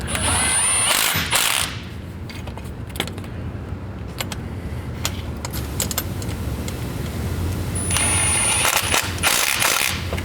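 A ratchet works a bolt tight on a lift kit bracket on a 2020-or-later GM 2500 truck, giving steady rapid clicking with a few louder clanks near the start and end.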